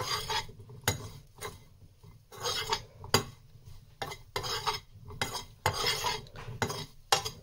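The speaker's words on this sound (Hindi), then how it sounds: "उसी पैन में हम ये आलू बॉयल डालेंगे" Boiled, cut potatoes stirred in a pan over a low flame, repeated scraping and clanking of a utensil against the pan in an irregular rhythm, with a faint sizzle beneath, no talking.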